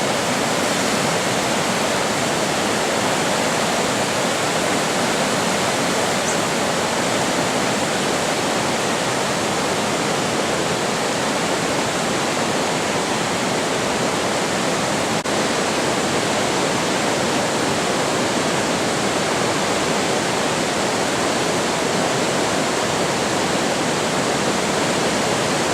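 River Torrens water rushing over a ford near Adelaide, a steady loud broadband roar of flowing water that continues unbroken throughout with no voices.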